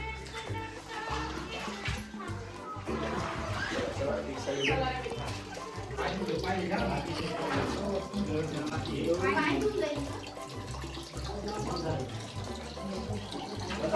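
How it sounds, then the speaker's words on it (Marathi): Water pours steadily from a spout at Trimbakeshwar temple in Nashik, a continuous splashing stream under people talking and busy crowd noise. "इथे त्या मुखातून पाणी येते बाहेर."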